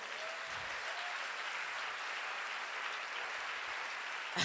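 A church congregation applauds steadily for several seconds, a dense, even wash of clapping that fills the room, with a brief louder burst near the end.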